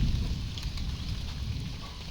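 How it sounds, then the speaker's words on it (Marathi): Evening rain falling outside a house in a Konkan village: a steady, even hiss with a low rumble that stays level throughout, with no voices. "बाहेर पाऊस पडतोय"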